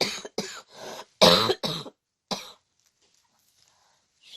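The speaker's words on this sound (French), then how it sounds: "je dois m'excuser chaque fois que je tousse" A woman coughs in a run of about six harsh, close bursts, one of them hoarse and throaty, before the room goes quiet apart from faint rustles.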